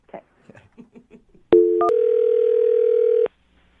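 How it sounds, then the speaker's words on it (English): A landline phone call is placed: a few faint taps or quick tones come first, then a loud steady dial tone rings out alone for nearly two seconds before it cuts off, with no voices. "I'm going to dial his phone number right now"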